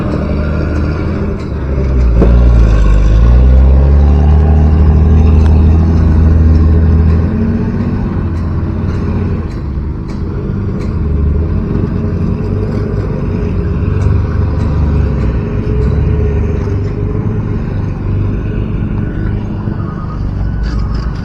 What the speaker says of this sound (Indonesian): ini ada truk yang masuk